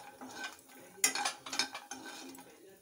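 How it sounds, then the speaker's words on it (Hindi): A spoon stirs makhana roasting in ghee in a kadai over a low gas flame, giving quiet, irregular scrapes and clinks of metal with light rustling and no talking. "मखाने को हम 10 मिनट तक धीमी आंच पे रोस्ट कर लेते हैं।"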